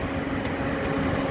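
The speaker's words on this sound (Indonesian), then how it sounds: "untuk memeriksa kondisi mesin masih bagus, kita bisa dengarkan suara mesin" A 2020 Toyota Yaris 1.5 TRD Sportivo automatic with a 1500 cc four-cylinder front-wheel-drive engine idles with its hood open, giving a steady, even hum with a low throb, close and continuous with no talking.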